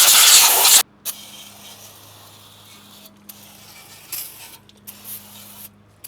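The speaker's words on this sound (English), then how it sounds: "I'm going to just spray all this down with brake clean" Brake cleaner hisses from an aerosol can in one loud, close burst onto the rear brake parts of a 2014-2020 GM truck, followed by quieter clicks and faint hissing bursts.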